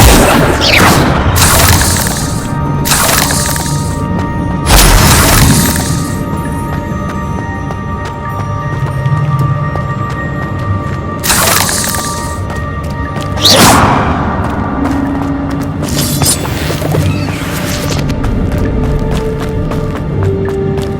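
Incendio fire spell cast repeatedly in Hogwarts Legacy on PS5, a series of loud booming whooshes and thuds bursting at intervals over a steady game ambience.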